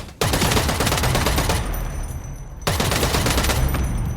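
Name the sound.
gunshots in EVE Vanguard video game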